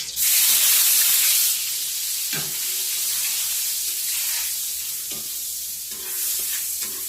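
Ginger hits hot cooking oil in a pan with a loud initial sizzle that settles into a steady hiss, broken by a few stirring scrapes.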